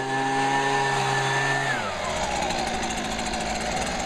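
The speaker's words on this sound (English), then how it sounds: "Now I've just got to use the trusty blower and get rid of all the debris." A leaf blower clears debris off a synthetic golf green, its engine whining steadily at a constant pitch, then dropping into a broader, rougher roar that continues loud and close.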